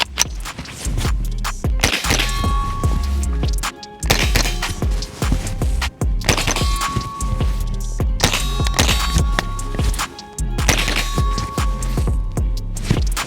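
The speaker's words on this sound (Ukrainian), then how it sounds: "а карабін ще продовжує і продовжує стріляти" Repeated sharp shots from a Winchester Wildcat rimfire rifle crack in quick bursts, loud and close, with brief pauses between strings of fire and mechanical clatter.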